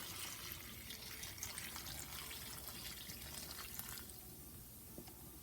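Orange soda pours steadily into a bowl of orange sherbet punch, a soft continuous fizzing trickle that is faint and close, with no talking.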